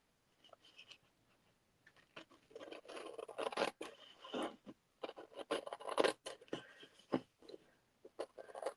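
Scissors trimming scrapbook paper, making a run of crisp snipping and rustling cuts close by, irregular in rhythm with short gaps; no talking.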